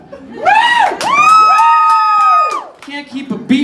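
Stand-up comedy crowd cheering and whooping loudly, with sustained shouts and applause swelling over about three seconds before tapering off.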